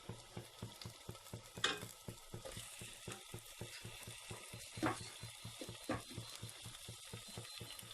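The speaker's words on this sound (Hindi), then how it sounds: "इसके अंदर मैं चिकन ऐड करूँगी।" Chicken pieces frying in a pot with cinnamon and black cardamom, a steady close sizzle broken by repeated stirring scrapes and a few sharper clatters.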